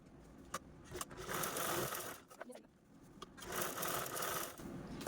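A sewing machine stitches fabric along both edges of a centred zip, sewing a reused blouse piece. It runs in steady close bursts with brief pauses between them.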